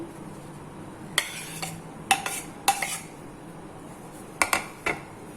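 Potatoes go into a bowl for chana chaat with a few clinks and knocks of utensils against the dish, spaced out against a quiet kitchen background, with no talk.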